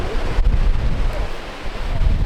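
Ocean waves at Bondi Beach heard from knee-deep water, a steady rushing surf mixed with gusty wind buffeting the microphone, with no talk.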